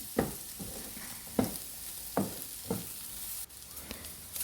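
Chicken fried rice sizzles in a pan with a steady frying hiss, broken by four or five sharp scraping stirs of a spatula at a close, moderate level, with no voices.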